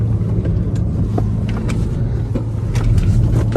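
A BMW M3 G80 engine rumbles steadily at close range while driving around slalom cones, with a low, continuous drone and slight surges in pitch, no voices over it.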